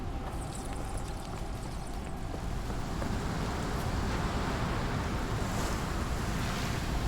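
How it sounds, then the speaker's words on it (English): Waves wash steadily in the video game Sherlock Holmes: The Awakened, a continuous choppy rush of surf and wind, loud and broad, with no talk over it. "They are waves."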